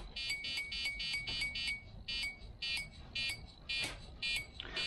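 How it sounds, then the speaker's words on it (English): A rapid series of short, bright electronic beeps from a micro:bit repeats in quick bursts, steady and moderately quiet, with no talking. "that beep doesn't help because I don't want the beep"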